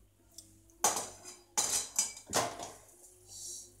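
Roasted urad and chana dal tipped onto a plate gives several loud rattling, clattering bursts of small hard grains striking the dish, with quiet gaps between them.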